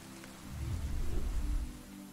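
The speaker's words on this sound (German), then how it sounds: "Da unten regnet es." Rain in the video game Deiland, a soft low rumbling patter that swells in the middle and fades again, quiet and without talk.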